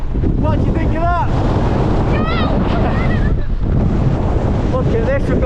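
Strong gale wind battering a mountain in the Langdales, Lake District, a loud constant roar and microphone buffeting throughout, with faint whistling tones over it.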